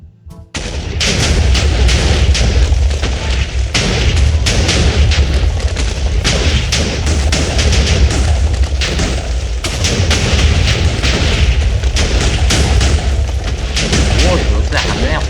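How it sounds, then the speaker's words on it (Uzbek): TNT blocks detonate in Minecraft as a long, relentless barrage of loud booming blasts that overlap into a nearly continuous roar, starting after a brief quiet moment and lasting to the end. "Bol portladi."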